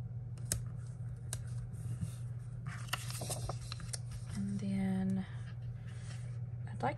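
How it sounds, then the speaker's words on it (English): Scissors snip through a paper planner sticker in a few quick, close cuts, with faint rustling handling noise and a brief squeak amid a low background hum. "I'm going to cut it."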